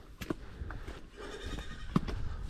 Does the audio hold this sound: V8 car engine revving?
no